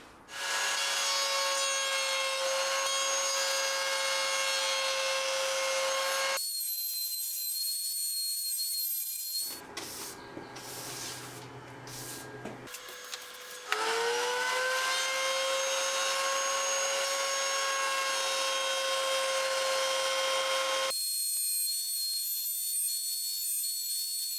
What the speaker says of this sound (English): I am going to use a flush cut router bit where the wheel guides against the inside of the access port layer that we've just glued in